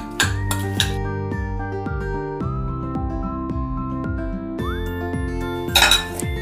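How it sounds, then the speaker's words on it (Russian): A spoon clinks repeatedly against a bowl while surimi salad is stirred with mayonnaise, a steady series of bright clear taps and scrapes, close and alone. "добавляем майонез. И все хорошо перемешиваем."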